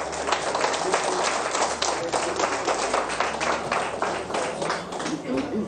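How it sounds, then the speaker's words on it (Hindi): A television studio audience on a morning show claps together, a dense, continuous spatter of hands ringing out close and loud, with voices audible under the clapping. "और तालियां"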